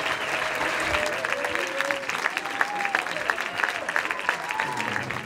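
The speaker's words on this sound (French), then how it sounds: "tout le monde d'applaudir François Damiens" An audience applauding actor François Damiens at a film presentation in Lille, a sustained bed of clapping with crowd noise and a voice talking over it throughout.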